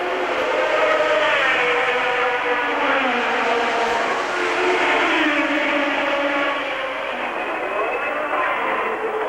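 A Tyrrell Formula 1 race car at the 1981 Monaco Grand Prix passes with a loud, high-pitched engine whine whose pitch climbs and falls as it shifts and rushes by, heard alone without voices.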